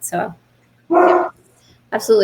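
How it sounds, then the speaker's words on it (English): Pet dogs bark in the background in several short bursts while a person talks over them. "Excuse my barking dogs in the background"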